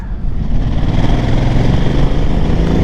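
A loud Ducati 950 Multistrada motorcycle engine chugs steadily at low revs, a deep rumbling throb that holds for a few seconds without any voices.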